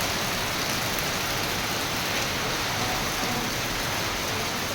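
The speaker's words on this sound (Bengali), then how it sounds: "মারাত্মক আকারে ঝড় রয়েছে আর বৃষ্টিও হচ্ছে।" Heavy rain pours down during a strong storm, a dense, even hiss of rainfall holding steady and close for the whole stretch, with no voices over it.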